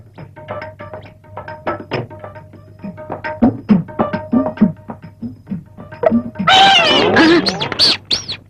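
A cat yowls loudly and harshly near the end of a Tamil comedy scene, rising after a stretch of busy chatter and voices; people talk throughout before the cry.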